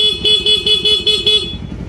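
A car horn beeps in a rapid series of about six short honks, loud and close, over a running engine rumble.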